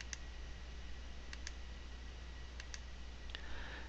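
A computer mouse button clicks a handful of times, faint sharp ticks, some in quick pairs, spaced over a steady low background hum in a quiet room with no talking.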